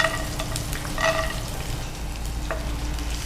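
Mustard seeds, cumin, green chilies and peanuts fry in hot oil for North Karnataka cooking, with a steady close sizzle and a few soft stirring scrapes.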